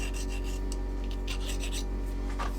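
A hand file rasps burrs off a shop-made metal setup block in a quiet workshop, a run of close, steady scraping strokes with one brighter scrape near the end.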